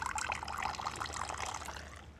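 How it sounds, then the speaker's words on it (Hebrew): Coffee poured from a finjan in a desert guesthouse, a steady close liquid trickle and splash running continuously for about two seconds with no talk over it. "אדון מוזג לגברת"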